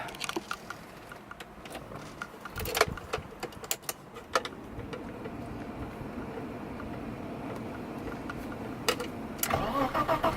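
A BMW E30 convertible engine cranking with a few rattling clicks, then catching and settling into a steady idle, close and fairly loud, with some clunks near the end.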